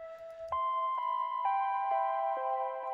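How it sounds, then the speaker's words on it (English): A soft, sustained synth pad from the Diva plugin holds layered tones while gentle note changes step through a slow, sleepy lo-fi phrase, quiet and smooth with no voices. "Then I have a synth from Diva, which is a cool synth plugin I recently got."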